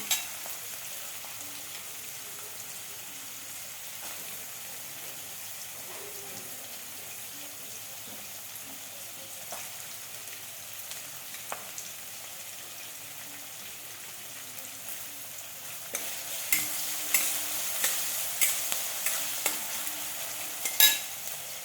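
Kantola (spiny gourd) cooks in a pan without added water, a soft continuous sizzle with occasional stirring scrapes that grows louder and busier toward the end, close by with no talking.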